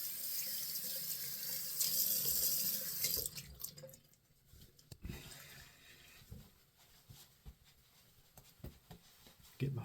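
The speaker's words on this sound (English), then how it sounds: "Okay, I'm gonna rinse." A tap runs into a sink while a face is rinsed, the water gushing steadily at first, then breaking into splashes and softer trickles with brief pauses.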